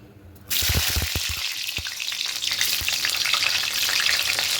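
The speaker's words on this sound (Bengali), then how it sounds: "তেলটা গরম হয়ে গেছে এবার এখানে পটলগুলো দিয়ে দেবো" Pointed gourd pieces drop into hot oil in a wok with a few sharp knocks, then a loud, steady, crackling sizzle of frying continues close by.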